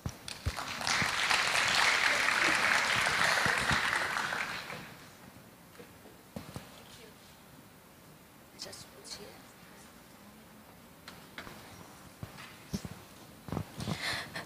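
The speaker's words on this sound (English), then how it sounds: "Please welcome Ms. Supawan with warm applause" Audience at an opening ceremony in a hall giving warm applause to welcome a speaker, a dense burst of clapping for about four seconds that fades into scattered claps and room noise.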